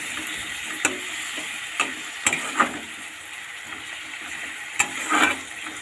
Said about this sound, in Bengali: দিয়ে ভালো করে নাড়াচাড়া করব এবং 10 থেকে 15 মিনিট এটাকে ভালো করে কষিয়ে নেব